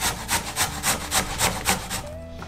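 Vegetables for a khanum filling are cut by hand on a wooden board, with about nine close, even rasping knife strokes in a steady rhythm before they stop.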